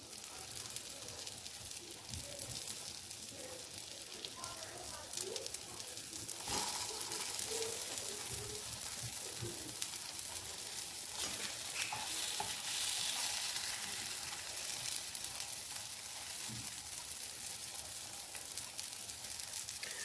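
Shami kababs fry in ghee in a pan over a medium flame, giving a continuous soft sizzle and crackle. Occasional scraping and stirring knocks sound over it, and the whole thing stays fairly quiet and steady for twenty seconds.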